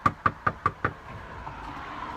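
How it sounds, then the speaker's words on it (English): Five quick, heavy knocks bang on a door in a steady rhythm, loud and close, followed by a low background hum. "aggressively bangs on the door repeatedly"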